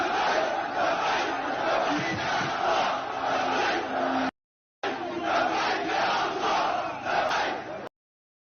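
A crowd of Palestinians cheers at Al-Aqsa, a sustained, roaring mass of distant voices, cut by a brief gap midway before resuming and ending abruptly.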